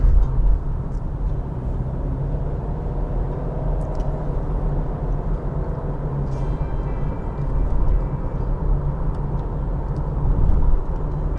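The cabin of a 2020 Subaru XV Hybrid driving slowly through a road tunnel: a steady low road and engine rumble with faint tonal whines, fairly loud, with no talking.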